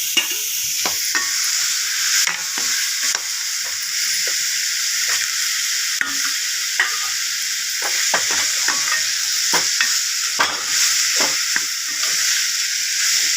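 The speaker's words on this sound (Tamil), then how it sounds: "நல்லா எண்ணெயிலே அந்த பேஸ்ட் நல்லா சுருன்னு வரைஞ்சிச்சு எண்ணெயில் பொறுத்து வச்சுருக்க வாழைக்காய் போடுறோம்" Green plantain pieces fry in hot oil with a spice paste, a steady bright sizzle broken by frequent sharp scrapes and stirs of a spoon in the pan, loud and close throughout.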